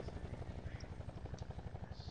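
Video game helicopter passing overhead, a steady rapid rotor thump pulsing continuously at moderate level, with a few faint game effects in the background.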